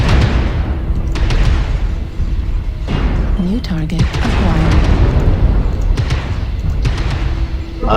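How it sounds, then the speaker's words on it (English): Video game artillery strike with a series of heavy booming explosions and rumbling impacts landing in repeated waves, loud and close, with people talking throughout. "Artillery strike."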